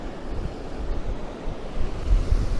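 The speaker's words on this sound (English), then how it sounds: "So that rain is still coming down quite heavy." Heavy rain pours near a series of mountain waterfalls, a dense, continuous rushing wash of water with gusty wind buffeting, steady and enveloping throughout.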